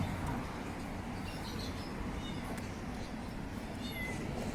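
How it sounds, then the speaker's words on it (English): A small kitten on a city street in Guangzhou, China gives a few faint, high-pitched meows over a dense wash of street noise. "Beautiful little kitten."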